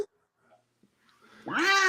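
A cat gives one loud, drawn-out meow close by near the end, after a stretch of near silence with faint background sounds.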